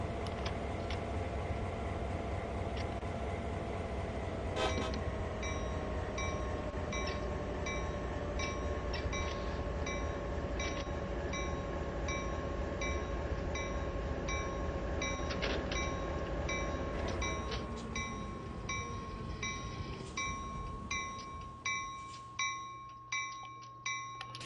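A locomotive in Train Sim World 2 runs with a steady droning engine hum and tonal whine, joined by rhythmic clicks from the cab, and near the end regular clunking beats come in, with no talk.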